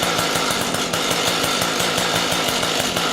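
A small two-stroke engine with its carburetor low-speed mixture screw being adjusted, running steadily up close with a loud, buzzy, rapidly pulsing drone and no talk.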